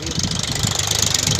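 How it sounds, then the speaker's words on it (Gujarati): A tractor engine rumbles loudly and close by, with a steady knocking chug and a faint rattle as it passes. "જોઈ લે અટાણ ટ્રેક્ટર આવે છે"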